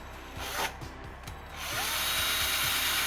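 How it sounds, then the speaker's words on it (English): A power drill revs in a short burst, pauses briefly, then whirs steadily, drilling into the metal part of an oil seal. It sounds close and fairly loud. "I'm going to drill this hole right at the center and try to get the metal part of the seal."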